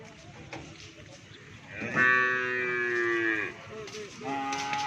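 Among many small young cattle at a busy field, a cow lets out a loud, drawn-out moo lasting over a second, followed by a shorter low call, over a busy background murmur.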